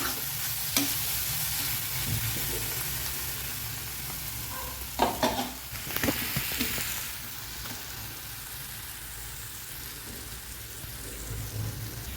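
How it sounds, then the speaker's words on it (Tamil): Capsicum strips deep-frying in a pan give a steady, moderately loud sizzle with a few sharper clatters of stirring near the middle. No one speaks. "சூப்பராக டீப்பாக ஃப்ரை ஆகிடுச்சு"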